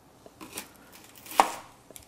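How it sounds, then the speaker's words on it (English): A knife cuts through an onion on a cutting board in a few sparse, close strokes, with one sharper, louder slice near the end and no talking. "Now what we do is we'll cut halfway through from north to south."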